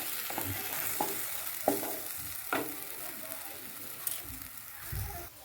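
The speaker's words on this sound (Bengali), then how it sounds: "আস্তে আস্তে নাড়িয়ে নিতে হবে" Food stirs slowly in a pan while cooking a green pea kachori filling, a soft background sizzle broken by several distinct scraping knocks of the utensil spaced about a second apart.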